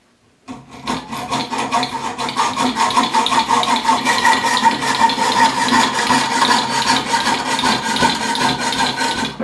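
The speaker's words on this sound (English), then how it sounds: "Electrical conduit in a vise or something to hold it. Take a hacksaw." Hacksaw cutting electrical conduit clamped in a vise, steady rhythmic rasping strokes at close range that keep going without a break for several seconds, with no talking.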